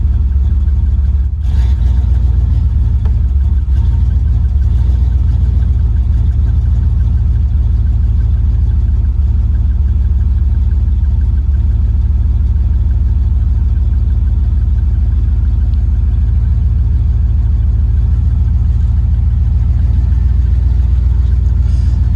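A 1993 Chevrolet K1500 pickup engine runs steadily close by, a continuous low, even drone with a brief blip near the start and no talk over it.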